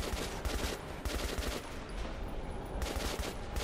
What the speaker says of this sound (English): Let's reload both my guns while I fire.